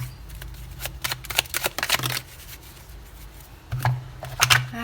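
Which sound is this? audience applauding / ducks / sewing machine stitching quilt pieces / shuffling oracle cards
shuffling oracle cards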